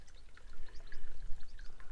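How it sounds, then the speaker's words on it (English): Fresh water trickles and gurgles into an old stone well or sheep dip near the coast at Seatown in Dorset. The sound is faint and continuous, with soft bubbling pulses and outdoor background noise. "as you can see it's being fed by fresh water, presumably coming off the ridge."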